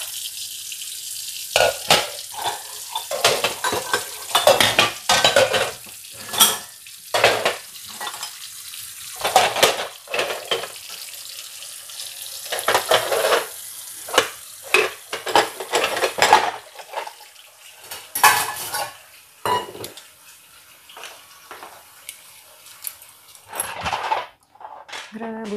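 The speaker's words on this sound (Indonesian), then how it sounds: "Merebus mangkok, guys." Bowls clatter and knock in a pot of boiling water, a string of irregular clinks and splashes with bubbling water underneath, some loud and close, others softer, with pauses between.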